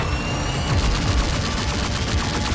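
Cannons fire in rapid volleys during an animated fight, forming a dense, continuous barrage of booming blasts that rolls on without pause.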